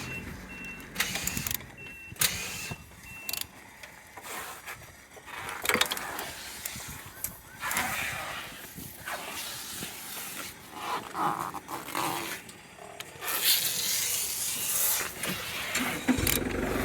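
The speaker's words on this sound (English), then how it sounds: "Turning engine" A car engine (coded 1A174, DV6B type) is cranked over by the starter in several bursts with pauses between them, a whirring, uneven mechanical churning heard close up with no talking.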